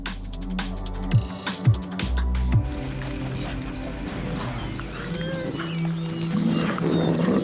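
A wolf pack calls out, mixing growls and barks early on with drawn-out, wavering howl-like cries that continue at moderate loudness.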